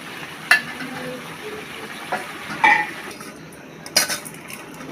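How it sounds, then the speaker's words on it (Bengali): Potatoes go into a pan for a fish head curry and are stirred in hot oil, with a continuous sizzle punctuated by several sharp scrapes and clanks of a metal utensil against the pan. "এখন আলুগুলো দিয়ে দিলাম।"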